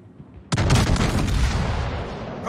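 Warship naval gunfire in World of Warships, a single heavy cannon blast erupting after a quiet moment, followed by a long rumbling, crackling decay of salvo fire.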